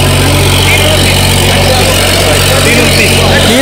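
A New Holland 3600-2 tractor engine roars loud and close during a tractor-pulling contest, a steady saturated drone with a deep low rumble and no breaks.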